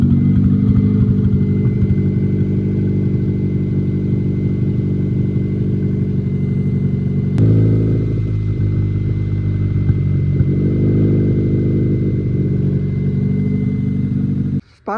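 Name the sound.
Maruti Swift K-series engine running with a misfire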